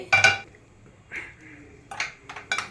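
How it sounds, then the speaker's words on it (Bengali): A metal kadai is set down on a kitchen stove with a sharp clank, followed by several lighter metallic knocks and scrapes spread over a few seconds in a quiet room. "এবার একটা কড়াই বসিয়ে"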